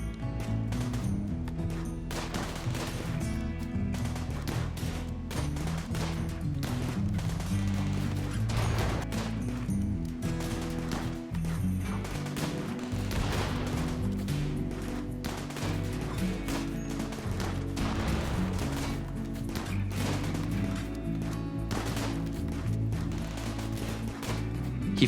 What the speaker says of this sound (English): The firefight began and obviously was taking some fire.